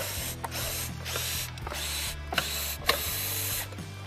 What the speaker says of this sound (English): we're going to remove our bottom plate with our number 2 Phillips screwdriver